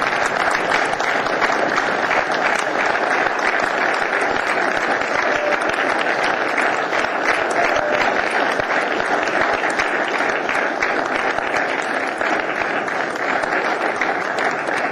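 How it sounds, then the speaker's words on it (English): A school assembly audience gives sustained, dense applause for Coach Charles "Chuck" White, holding steady and loud for the full stretch with no voices standing out. "Please join me in a round of applause for Coach White."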